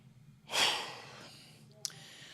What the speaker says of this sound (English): Just finished working out, so bear with me. Let me catch my breath.